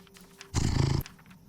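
A petted cat in the vampire video game Cabernet lets out a short, loud purr of about half a second, rising abruptly above a faint background and then cutting off.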